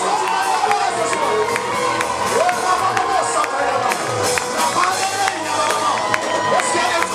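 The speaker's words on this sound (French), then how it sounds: "Est-ce que tu veux acclamer ce soir?" A church congregation cheering and acclaiming during worship, with a dense crowd roar of shouts and whoops rising and falling, loud and continuous, plus scattered sharp taps and handclaps through it.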